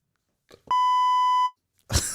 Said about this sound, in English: I just beeped my burp.